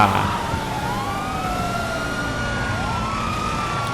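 A police siren in GTA V wails and sweeps up and down at mid-distance over steady engine rumble, with a second siren layered faintly behind.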